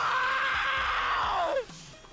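A male character in the video game Isolated Society Study lets out a long, strained scream that holds steady and then drops in pitch before breaking off, loud and close, with music faintly underneath.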